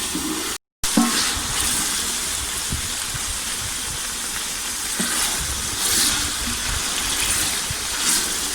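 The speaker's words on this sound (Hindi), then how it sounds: "इस तरह हल्की आंच पे इसे फ्राई करते रहें।" Onions frying in a pan on low heat for chicken fried rice, a steady close sizzle with occasional stirring clicks, continuous apart from a brief cut near the start.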